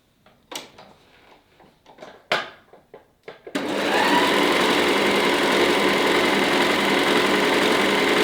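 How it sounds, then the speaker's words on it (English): An overlocker serging fabric pieces for a bow tie blouse starts after a few clicks and handling noises, then runs loud, fast and continuous, a dense mechanical whir with no pauses. "For the next step, we are going to overlock some pieces to prepare for the sewing."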